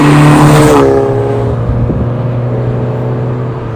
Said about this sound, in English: it's a Miltech exhaust, but it sounds really nice